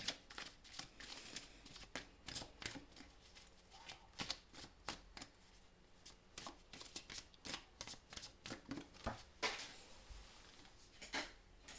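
Tarot cards shuffled by hand in a steady run of crisp riffling bursts, close and clear for the whole stretch with no talking.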